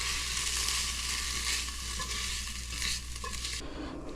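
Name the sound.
kielbasa sauteing in a pan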